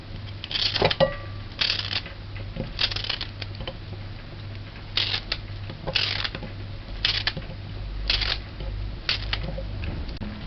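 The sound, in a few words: cutting green banana with a knife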